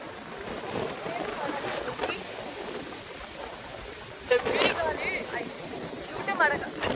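Gusty wind at a beach buffets the microphone with a rough, rumbling roar, while a person talks underneath and surf can be heard nearby.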